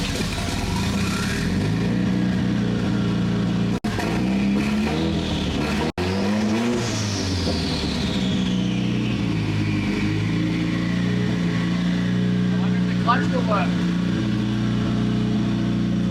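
A car engine, likely an AE86, S13 or S14 project car, cranks and then revs loudly and close up, with the pitch rising and falling over a steady running drone.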